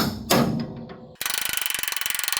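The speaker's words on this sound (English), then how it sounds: "I'm going to go ahead and tap this down so it gives it a little more play" Metal tapping on the chain tensioner of a New Holland 269 baler, a single sharp knock followed by a fast, even series of ratcheting clicks, close and fairly quiet.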